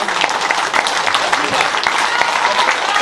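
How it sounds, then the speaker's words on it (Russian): A concert audience at the Staraya Plastinka show breaks into loud, dense applause that keeps going as an even wash of clapping throughout. "Ваши аплодисменты."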